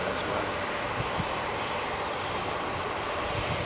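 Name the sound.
United jet with Pratt & Whitney engines at Heathrow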